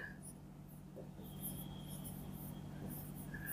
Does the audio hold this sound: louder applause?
no